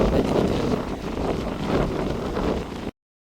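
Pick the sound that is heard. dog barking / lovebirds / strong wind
strong wind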